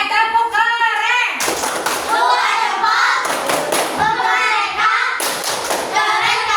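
Children perform the Indonesian 'tepuk keren' routine, chanting in loud, sing-song voices broken by sharp bursts of group clapping in a quick, repeating rhythm.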